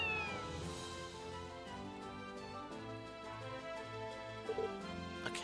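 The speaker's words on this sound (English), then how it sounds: "A cat." A cat meows in the Legend of Heroes: Trails to Zero video game, a few short cries heard over sustained game music with no talking.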